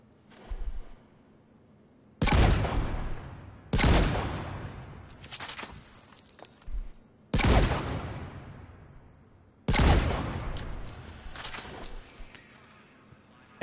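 Wraith shotgun blasts at mid-range in Mass Effect 3, four loud booming shots spaced a few seconds apart, each with a long decaying tail, plus a couple of softer thuds between.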